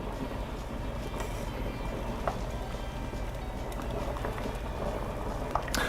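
Lasagna noodles boiling in a pot make a steady, dense bubbling roar throughout, with occasional faint clinks over the constant rumble and no speech.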